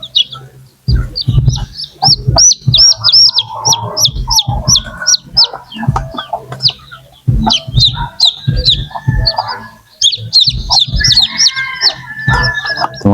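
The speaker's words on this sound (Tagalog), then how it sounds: "ang lulusog ng mga sisiw" Chicks and chickens cluck and peep as they are moved into a brooder: a busy, near stream of shrill chirps over lower clucks, with handling bumps throughout and barely any talk.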